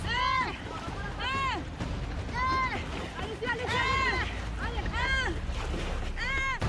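Paddles splash and churn as a partly submerged raft is driven across open water in a island survival competition, steady and close, with wind noise and excited voices calling over it.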